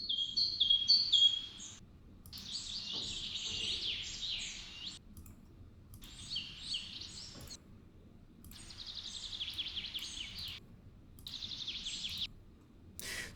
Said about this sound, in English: So all the birds are different clips and samples here.